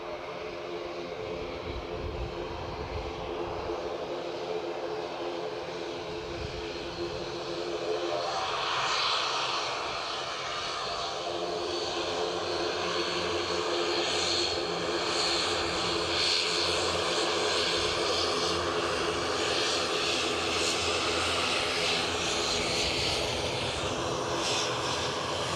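A Loganair ATR turboprop airliner at Edinburgh airport drones steadily for the whole stretch, the engine roar swelling a little after the first third and holding loud and continuous, with no talk over it.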